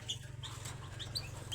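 Female canary chirping: brief high chirps scattered through the clip, fairly faint, over a steady low hum and background noise.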